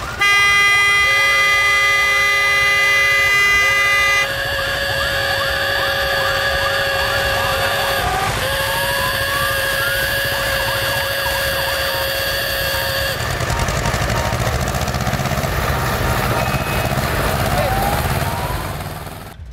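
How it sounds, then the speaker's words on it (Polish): Dozens of tractors gathered on a meadow at a tractor rally in Kraśnik Dolny blare their horns together, long overlapping honking tones sounding over a rumbling engine bed, the chorus shifting pitch and thinning toward the end. "wszystkie traktory zgromadzone na łące w Kraśniku Dolnym dały znać o sobie klaksonami, odgłosem silników"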